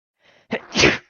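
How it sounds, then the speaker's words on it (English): A single sneeze from a player at a Pathfinder tabletop role-playing session: a soft intake of breath, then a sharp, loud burst that trails off quickly. "Bless you."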